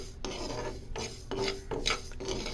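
Raw rice dry-roasting in a pan for homemade baby food, stirred steadily with repeated close scraping and rasping strokes, several rhythmic passes with brief pauses between them.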